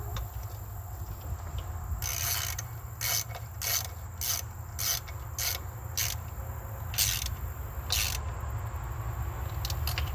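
A ratchet clicks in repeated short bursts while tightening the valve cover bolts on a Ford Maverick 5.0, the bursts spaced irregularly over a low background hum.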